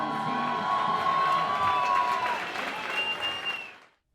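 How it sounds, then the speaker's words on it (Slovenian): An audience bursts into loud applause for Jani, with cheers and whoops mixed into the clapping and a sustained tone ringing underneath, before it all cuts off abruptly into silence. "Aplavz za Janija,"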